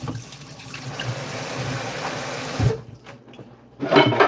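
Tap water runs steadily into a sink while a jug is washed, then cuts off briefly before a second short burst of flow splashes back in.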